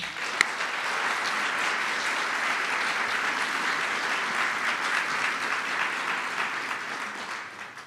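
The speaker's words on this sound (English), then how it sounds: "please join me in a round of applause" A long round of applause from the audience at an Army and U.S. Cyber Command promotion ceremony for a lieutenant general, steady and even throughout, crowd clapping alone with no voices over it.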